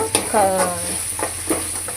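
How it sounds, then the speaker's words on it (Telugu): Ladle stirring cashew chicken curry masala with ginger paste in a pan, with soft scraping strokes over a steady close sizzle of frying, several stirring motions in quick succession. "గెంటితో కలిపెడతా ఉన్నాను"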